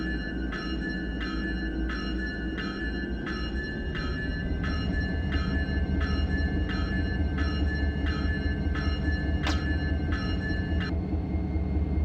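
A heavy freight train in the Run 8 train simulator game pulls away under a deep, steady diesel rumble that grows louder, while a chiming horn sounds in repeated short pulses before a final longer blast.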